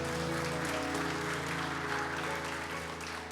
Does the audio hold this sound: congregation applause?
yes